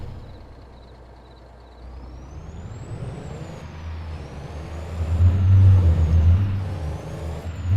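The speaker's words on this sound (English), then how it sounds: "I think this truck here does need a little bit of brake work." An idling farm truck in need of brake work hisses and rumbles with air brake noise, a steady low engine drone swelling louder midway with a faint whine above it, close by.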